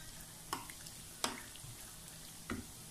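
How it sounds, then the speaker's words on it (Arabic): Dough flower beignets fry in a pan of oil, with a soft low sizzle under three sharp clicks of a utensil against the pan, spaced about a second apart, close and fairly quiet. "انا كنحضيهم واش تقلاو من التحت"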